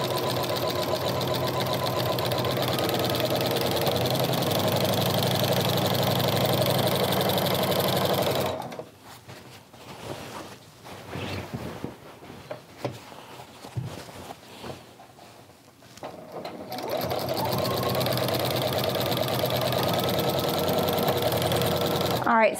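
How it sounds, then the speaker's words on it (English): A sewing machine fitted with a walking foot quilts straight lines, its fast steady mechanical whir running loud and close, breaking off midway for a quieter stretch with faint handling noises before resuming; a voice speaks over parts of it. "and start sewing"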